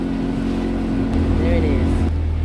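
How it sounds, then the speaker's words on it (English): A small motorboat pulls up outside the Old Cataract Hotel on the Nile at Aswan, its engine a low steady drone close by, easing in pitch as it slows. "we are pulling up in this lovely little motorboat outside"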